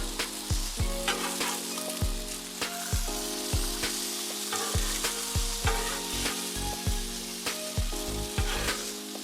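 Philly cheese steak stuffed peppers sizzle steadily on a Blackstone griddle, with repeated sharp scraping clicks of a spatula as they are flipped and moved, close and fairly loud throughout.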